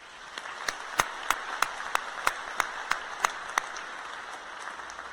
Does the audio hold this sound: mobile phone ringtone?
no